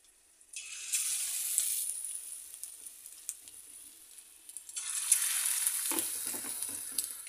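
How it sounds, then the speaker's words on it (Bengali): Cornflour-coated fish pieces deep frying in hot oil for chilli fish, a close, crackling sizzle that rises in bursts as pieces are added, with faint stirring and no talk. "এই যে একটা পাট ভাজা হচ্ছে"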